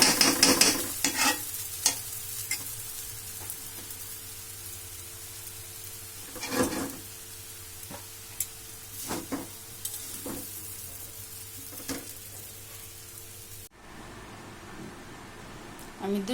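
Fried vermicelli, done in ghee, is stirred and pulled apart with two forks, giving soft scraping and rustling with scattered sharper scrapes and clinks, fairly close, with some talk over it.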